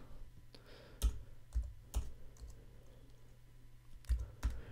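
Keys tapped on a computer keyboard while entering text in Photoshop: a handful of sharp, separate clicks spaced irregularly, close and fairly quiet against a low steady hum.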